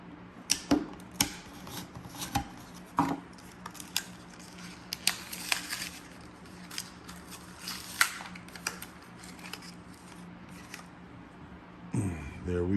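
Packaging for a paint gun adapter crinkles and clicks as the part is pulled free, irregular sharp plastic snaps and rustles close by, with a brief louder rustle at the end.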